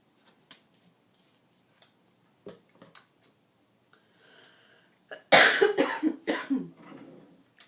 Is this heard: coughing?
yes